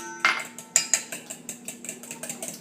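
A utensil clinking and scraping against a bowl while heavy cream and other filling ingredients for a low-carb pumpkin pie are stirred together, a sharp tap followed by a run of quicker, lighter knocks, close and alone.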